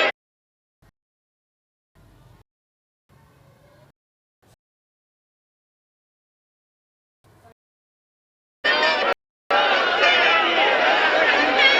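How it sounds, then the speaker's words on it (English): Cricket stadium crowd during a PSL 2020 match, a loud, dense roar of many voices arriving suddenly after near silence, with a brief break before it continues steadily. "Fabulous crowd in here."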